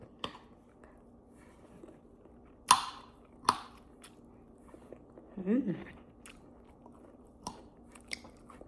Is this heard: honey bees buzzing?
no